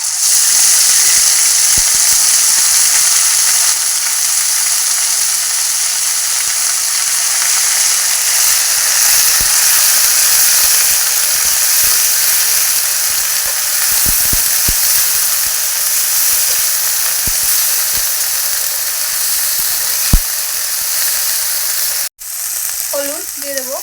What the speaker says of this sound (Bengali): শুকনো লঙ্কা আর তেজপাতা দুটো জিরে দিলাম, সব ফোড়নে দিয়ে দেবো